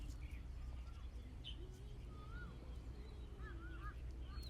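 Small birds chirp and tweet repeatedly along the Coloane wilderness trail, quick faint whistled calls scattered over a low steady background hum.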